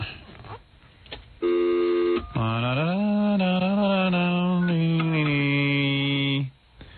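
Electronic telephone dialing tones: a short buzzy tone, then a long, loud, steady sustained tone that shifts slightly in pitch, with no other sound.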